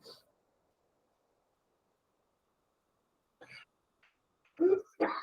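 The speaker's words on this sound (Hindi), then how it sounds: "पिताजी खास रहे" A man coughs in the background of an online chemistry class, heard as a few brief, fairly faint bursts near the end after a long near-silent stretch.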